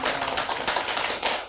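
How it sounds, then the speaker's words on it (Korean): Church congregation clapping in encouragement during a Korean sermon, a brief, close burst of rhythmic hand claps with no talk over it. "우리 믿음의 박수, 격려의 박수 한번 쳐주세요."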